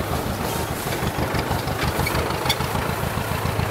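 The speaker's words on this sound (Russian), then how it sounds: "Вот сейчас брат Никита на тракторенке поехал" A small tractor engine runs steadily at close range while hauling sacks of dug potatoes from a garden, its low rhythmic chugging and knocking continuous and fairly loud with no talk over it.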